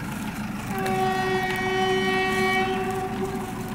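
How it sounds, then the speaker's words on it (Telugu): A goods train runs past near Bhiwandi station, its long sustained horn sounding loud and close for about three seconds over a continuous rumble of rolling wagons. "అరే బాబా, ఇంతకుముందు ఒక ట్రైన్ పోయింది కదా ఇట్లా. ఇప్పుడు మరో ట్రైన్ ఫ్రెండ్స్."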